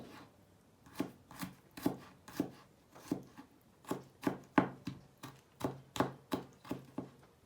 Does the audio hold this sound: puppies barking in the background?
no